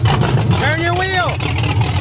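A V8-swapped BMW E36 stalls on the street: a brief whining engine tone rises and falls over a low idle rumble, with people talking nearby.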